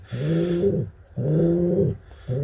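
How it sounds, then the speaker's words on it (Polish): Pigeons coo close by, three low, throaty, rolling calls separated by short pauses, with no voices present. "piękne ptaki"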